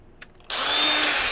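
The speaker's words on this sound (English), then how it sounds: "So let's go ahead and drill this hole out." A power drill whirs up abruptly after a few faint clicks and keeps spinning steadily at close range, drilling a hole to install a turn fin on an Oxidean Marine Mini Dom RC boat.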